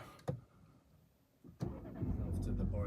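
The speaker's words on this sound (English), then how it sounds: "that's where you start your engine, here." A BMW 2 Series Active Tourer 223i engine starts with a sudden crank, then settles into a steady, fairly loud running hum, after a quiet cabin stretch with a soft click.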